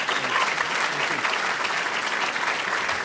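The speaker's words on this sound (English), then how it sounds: "How about a big round of applause?" An audience claps for a speaker after a presentation, a dense, even burst of applause that stays steady throughout the short stretch.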